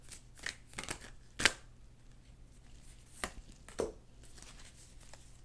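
Tarot cards are shuffled and drawn with soft, quick riffling slaps and a few sharper snaps, close and quiet, with no speech.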